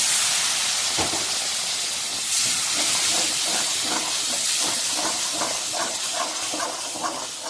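Water splashed into tomato sauce masala frying in a hot pan sets off a loud, steady hiss and sizzle that fills the whole stretch, with faint bubbling pops over it.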